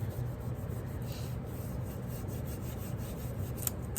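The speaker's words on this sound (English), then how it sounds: "Give it a good rub." Paper hole reinforcement stickers rubbed firmly onto a sheet, a steady dry rasping friction that continues without pause at close range, with no talking.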